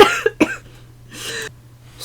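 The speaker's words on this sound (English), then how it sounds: "I was just coughing reading this." A short burst of coughing, two quick sharp coughs followed by a longer rasping one, close to the microphone over a faint hum.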